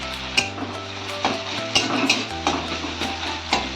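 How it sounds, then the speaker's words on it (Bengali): Grated ginger fries in a pan with tomatoes already cooked in it, giving a soft sizzle broken by repeated scraping and clinking strokes of a utensil stirring against the pan. "আদাটা কয়েক সেকেন্ড আমি এইভাবে নেড়ে নিচ্ছি"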